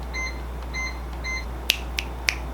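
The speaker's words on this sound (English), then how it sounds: "But not before we turn down the air conditioner." Three soft electronic beeps in a row, then three sharp clicks as an air conditioner is turned down by remote, over a constant low mechanical hum.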